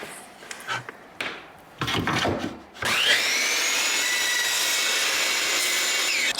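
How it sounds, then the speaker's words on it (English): A miter saw cuts a wooden fence picket to length: a few quiet handling knocks, then the blade spins up and settles into a loud, steady whine that runs on to the end. "start at the miter saw, cut one piece to 16 inches, cut 3 pieces to 4 inches"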